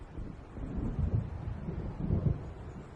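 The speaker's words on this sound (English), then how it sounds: "It seems there's a storm coming." Low rumbling thunder of a storm building over dark waves in the video game Alan Wake Remastered, rolling in broad, swelling surges with a steady windy undertone, fairly quiet and distant.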